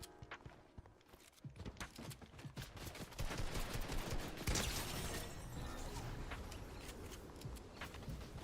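Rapid shotgun blasts and other weapon fire crackle through a Fortnite match, dense overlapping shots and mechanical clatter at low level that build after a quiet start and continue steadily.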